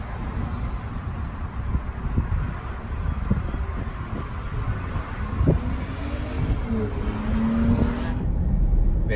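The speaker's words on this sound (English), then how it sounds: "we're in Sport Plus, and I don't think there's like a launch control or anything, so I will just gun it" A 2020 Lexus RX SUV in Sport Plus mode accelerates hard on a track, its engine and road roar steady and loud throughout with wind buffeting, building slightly toward the end.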